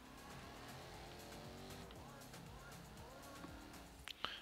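Car accelerating in Forza Horizon 3, a steady, rising engine drone with gear-change sweeps, heard faintly and continuously, ending in a couple of sharp clicks.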